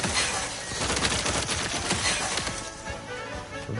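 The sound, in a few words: gunfire from a new weapon in video game The Outer Worlds 2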